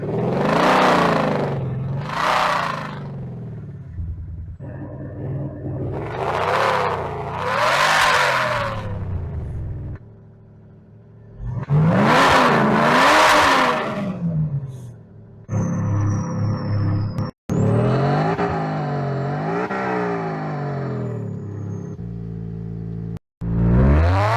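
A Mercedes-Benz GLS X167 fitted with a MaxHaust active electronic exhaust revs repeatedly, loud rising and falling engine roars with pauses between, then accelerates in longer sweeping pulls, close and without talk.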